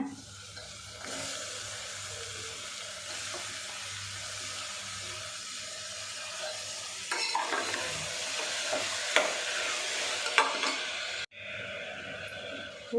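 Tomatoes frying and being stirred in a pan for tomato bath, with a continuous sizzle and close scraping stir strokes that grow busier toward the end before a brief cut, and no talking.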